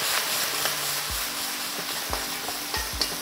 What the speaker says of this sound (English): You can toss the pan